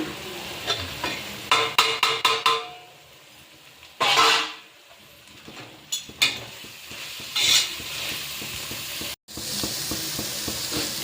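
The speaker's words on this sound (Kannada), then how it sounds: "ಟೊಮೊಟೊ ಕಟ್ ಮಾಡಿ ಇಟ್ಕೊಂಡಿರೋದು ಹಾಕ್ತಾ ಇದ್ದೀನಿ ಇವಾಗ" Chopped tomatoes go into a pan of hotel-style spiced tomato bath seasoned with salt, coriander powder, chili powder, garam masala and turmeric, giving close, loud sizzling frying, scraping stirs and sharp metallic taps on the pan.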